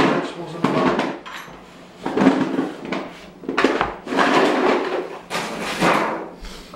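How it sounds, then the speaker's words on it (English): Vegetables dropped into a disposable roasting pan for a turkey, a run of loud, close crinkly thumps and rattling clatter in uneven bursts. "We're just going to throw those vegetables in the bottom."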